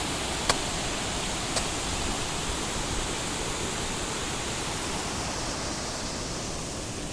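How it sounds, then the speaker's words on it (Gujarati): Rain-swollen freshwater river at Zinzuda village near Morbi, Gujarat, makes a steady, dense rushing roar that stays even throughout, with no talking. "જોવો આ ઝીંઝોડાનો એક નદી કહેવાય છે, નદી, મીઠા પાણીની નદી."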